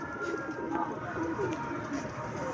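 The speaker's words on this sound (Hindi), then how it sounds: "वो देखिए बिल्डिंग पे परिंदा बैठा दोस्तों" Pigeon cooing from a city building rooftop, a soft repeated low coo heard at moderate distance over steady traffic and street noise.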